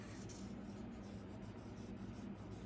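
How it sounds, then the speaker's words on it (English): Cursive handwriting on paper makes a faint, continuous scratchy rub of pen or pencil strokes, steady and close, with no talking over it. "I am going to do my best handwriting and write"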